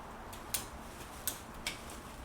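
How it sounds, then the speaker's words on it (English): Sharp bonsai scissors snip tree branches in three crisp, separate clicks over a quiet background. "This scissors is really good."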